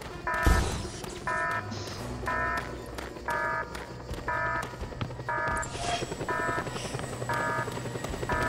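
A helicopter in Just Cause 2 runs loudly and steadily with a rhythmic rotor chop, alongside repeating electronic beeping tones at a regular beat, heard without talk.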